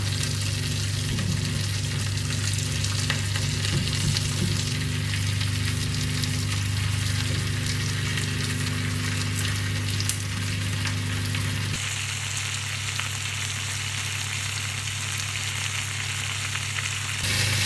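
Beans cooking in a hot pan alongside steak, a constant dense sizzle and hiss with a low steady hum beneath, unchanging apart from a slight shift in tone partway through, no talking.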